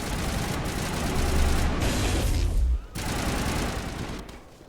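Squad gunfire from AI teammates in Mass Effect Legendary Edition pours out as a dense, continuous rattle of weapons fire mixed with booms, then cuts out briefly before resuming and fading.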